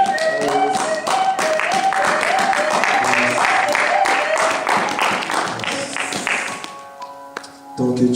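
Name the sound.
church congregation applauding and acclaiming God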